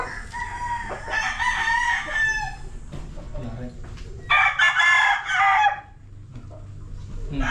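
A Lazy Round Head gamecock rooster crows twice on a native game farm in Santa Ana, Pampanga, with the first crow drawn out and the second loud and close, over faint background talk.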